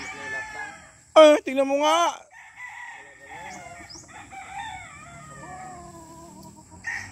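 A brood cock crows once loudly up close, with softer clucks and farmyard sounds after it, while a person talks over the quieter part.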